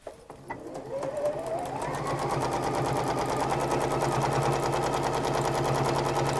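A sewing machine restitches around a fabric seam, starting with a few slow clicks, then running up to a fast, steady mechanical whir that continues evenly until the end.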